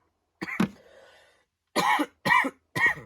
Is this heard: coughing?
yes